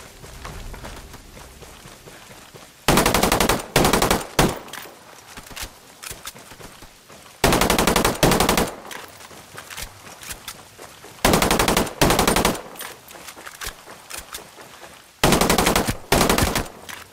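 Bursts of automatic gunfire from Ghost Recon Breakpoint, PS5 PvP, come in four loud clusters of rapid shots about every four seconds, with quieter ambient game sound between them.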